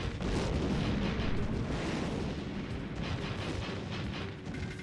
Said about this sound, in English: I keep trying to shoot him with my sniper arm